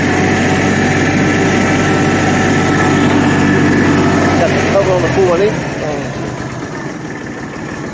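A farm tractor's engine idles with a steady, loud rumble in cold weather, then its tone shifts and drops slightly toward the end, while someone speaks briefly over it.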